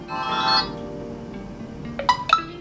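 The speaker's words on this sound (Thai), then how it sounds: "notification tone ก็คือการแจ้งเตือนนะครับ" A GW33 smartwatch plays a short notification tone: a melodic chime near the start, then two quick bright electronic beeps toward the end, heard close up with no talking.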